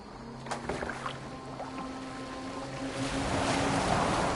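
A boat moving across water in Assassin's Creed Valhalla, a steady wash of waves and hull noise that swells louder toward the end, with faint tonal game sounds early on.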